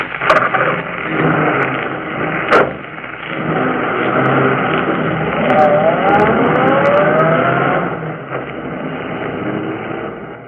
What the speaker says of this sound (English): The 2 young criminals fled the scene in the murdered man's automobile.